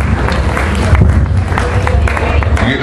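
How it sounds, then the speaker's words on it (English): An audience at an evening candidates' event applauds with steady, dense clapping and crowd noise, loud and close, lasting throughout. "how about a big round of applause for yourselves?"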